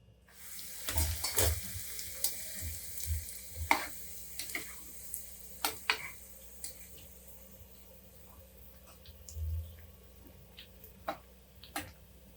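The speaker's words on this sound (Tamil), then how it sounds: "இந்த மாதிரி எல்லா துண்டுங்களையும் நம்ம போட்டு பொறிச்சு எடுத்துடலாம்" Bread pieces deep-frying in refined oil for Shahi Tukda, a steady low sizzle with scattered clicks and taps of utensils against the pan, fairly quiet and without talk.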